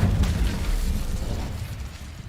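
Fire spell Incendio cast in the video game Hogwarts Legacy: a loud, roaring burst of flame that hits at once and rumbles on steadily for a couple of seconds with no voices.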